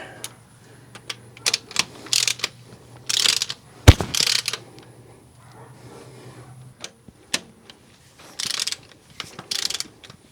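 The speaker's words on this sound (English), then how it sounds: "Snug them a little bit before I run them down. Definitely could use a smaller torque wrench." A ratchet wrench clicks in short bursts while engine bolts are snugged down, with bright rapid ratcheting spells separated by pauses, a sharp clank near the middle and a faint steady hum underneath, close by and without speech.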